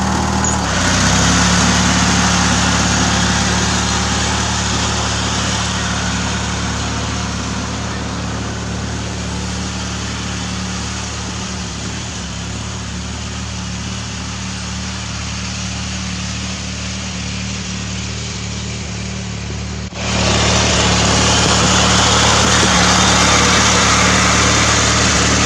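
A lawn mower engine pulling a trailer through sand runs continuously with a loud, steady drone that dips slightly in the middle and surges back near the end, close by and without talk.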